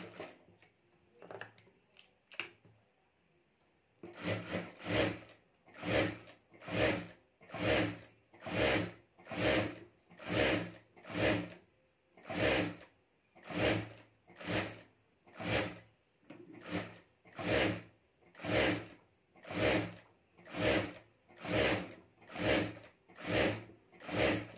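A sewing machine stitches fabric around piping cord for a sling bag in slow, regular bursts: about twenty evenly spaced pulses of stitching after a few quiet clicks, close and clear with no talking.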